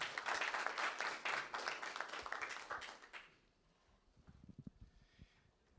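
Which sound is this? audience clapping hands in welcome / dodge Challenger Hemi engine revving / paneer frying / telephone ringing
audience clapping hands in welcome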